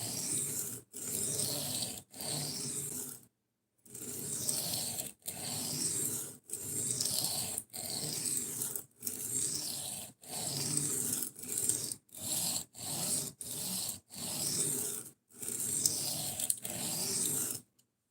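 A D2 steel knife blade being sharpened with long, even scraping strokes, close and loud, repeated in a regular rhythm of about a dozen passes separated by brief pauses.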